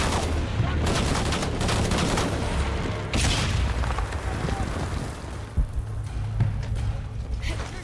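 Rapid bursts of gunfire fill a chaotic firefight in Shadow of the Tomb Raider, with dense, loud shots and booms layered over a rumbling backdrop, and voices shouting amid the fighting.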